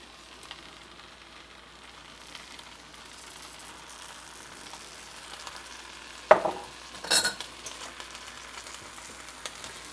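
Cooked ground beef and marinara sauce are stirred in a pan, a low steady sizzle with a couple of sharp scraping strokes of the spoon near the middle.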